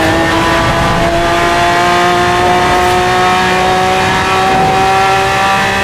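Lamborghini Aventador in Forza Horizon 4 at full throttle on a straight during a top speed run, its engine a loud, steady sustained roar with a high held pitch, alone with no talk.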